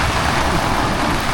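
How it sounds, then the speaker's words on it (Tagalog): Heavy rain pours in a dense, steady roar with no breaks, loud and close, at a campsite during a storm. "Grabe yung ulan."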